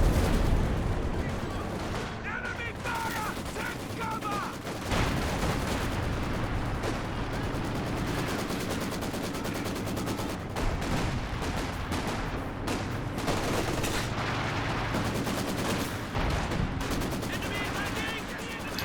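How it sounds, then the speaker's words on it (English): A walking Stuka rocket barrage in Company of Heroes 2 lands in a dense, continuous roll of booms and crackling impacts under battle noise, with a commentator talking over it. "And the walking Stuka barrage coming down."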